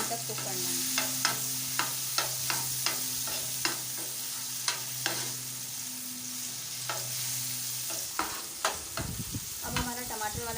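Tomato masala with green chillies fries in a pan under a steady sizzle, while a spoon taps and scrapes the pan in regular close clicks, growing busier near the end.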